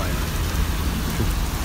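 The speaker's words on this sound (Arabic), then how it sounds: "شوف السيل ما شاء الله تبارك الله امطار خير وبركه وفضل من الرحمن" Heavy rain pours down over a rushing torrent of flood water in western Saudi Arabia, a dense, constant roar that stays loud and steady throughout with no voices.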